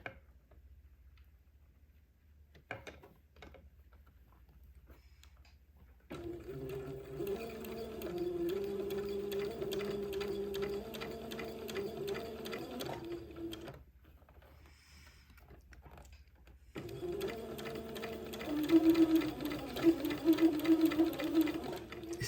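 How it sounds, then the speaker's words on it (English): A sewing machine stitches around the edge of a baby gown in two runs, each a fast, steady mechanical whir with rapid ticking. A quiet pause and a few faint clicks separate the runs, and there is no talking. "So let me sew around one more time at 1/8 of an inch."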